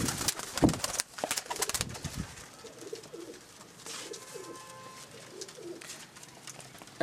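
Cheeta breed pigeons at a home loft coo in low, soft murmurs across several seconds, with scuffling noises and a few sharp rustles near the start.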